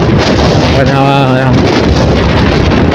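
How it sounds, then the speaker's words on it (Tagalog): Loud, steady wind roaring and buffeting against a microphone while riding a Yamaha YTX125 motorcycle at speed, with a brief tonal whine rising midway. "Lalo't mabilis yung takbo mo, ang lakas ng hangin"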